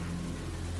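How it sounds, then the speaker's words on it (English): Heavy storm rain pours in a steady, dense hiss with a low rumble of thunder underneath, constant and close for a brief moment. "A lot of rain. And of course with that we got a lot of thunder and lightning"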